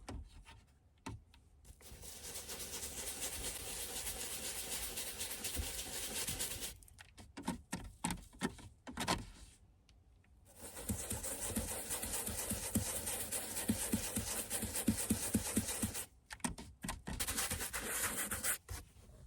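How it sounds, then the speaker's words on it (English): Brisk scrubbing on a grease stain in a cloth car seat treated with cleaner, bursts of rapid rubbing strokes close by separated by short pauses. "So now I'm just gonna start plotting it on the stain here, give it a little scrub."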